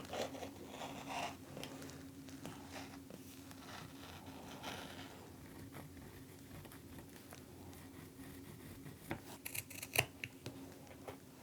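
Scissors snipping through canvas and cork fabric while trimming pieces and cutting out corner darts for a sewn wristlet; soft, quiet cuts and rustling of material at close range, with a few sharper snips near the end.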